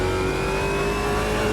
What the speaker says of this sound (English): You got that raspy V8, which revs really high and it just sounds just like the real thing